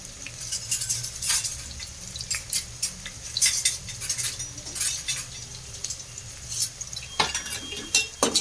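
A spoon scrapes and clinks against a pot while rice with garam masala is stirred and sautéed for a vegetable pulao, with irregular metallic scrapes and soft sizzling close by and no talk.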